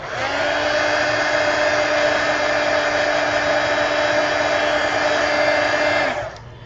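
A hair dryer blows on watercolour paper, a loud, steady close whirring hum that runs unbroken for about six seconds and then cuts off.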